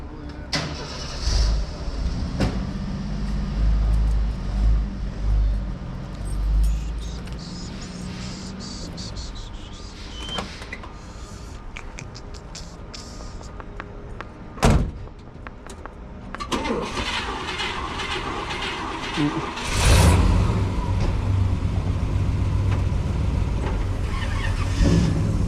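Classic cars, a Scout and a Chevelle among them, are moved around, with engines starting and revving at close range in irregular bursts, then settling into a steady idle near the end.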